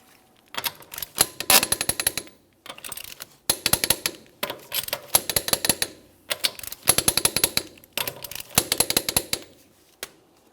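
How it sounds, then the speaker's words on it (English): Lug nuts on a rear wheel of a 2008-2017 Mitsubishi Lancer are torqued to 80 foot-pounds in a crisscross pattern, giving five loud bursts of rapid impact hammering separated by short pauses. "I'm going to be torquing each one of my lug nuts in a crisscross manner to that 80 foot-pounds."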